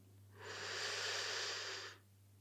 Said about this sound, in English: keep practicing that technique, that breathing cycle, in through the nose